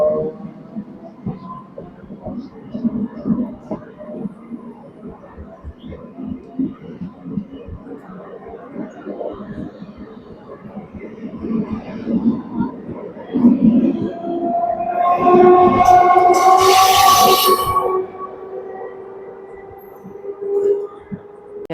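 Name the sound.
Trichy to Villupuram MEMU passenger train departing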